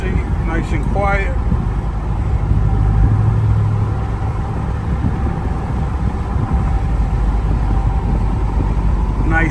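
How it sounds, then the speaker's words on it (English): A Ram 1500 with a 5.7 V8 and MBRP high-flow muffler idles off the gas, a low, even exhaust rumble that stays close and mellow throughout, with a voice speaking briefly at the start and end. "Let off the gas, you can see, nice and quiet."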